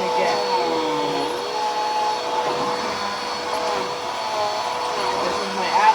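Bissell PowerForce Helix 12B1 upright vacuum cleaner running, a loud, steady motor whine with rushing air that holds constant throughout, with slight shifts as it moves.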